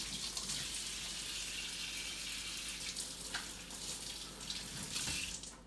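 Water runs from a kitchen tap while hands are washed, a steady soft splashing stream with slight shifts as hands move under it, heard close and fairly quiet with no talking.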